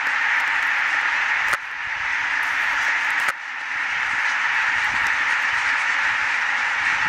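A large flock of barnacle geese taking off in rural Finland in autumn, a dense continuous wash of honking calls and wing whoosh, loud and sustained with a couple of brief dips.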